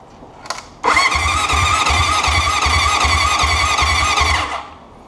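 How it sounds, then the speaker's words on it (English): A Honda CB750 motorcycle engine with no spark, after 35 years of sitting, cranks over steadily on the starter for about three and a half seconds without firing, a loud close whirring with a rhythmic low chug. "so we just cranked it over. There's no spark."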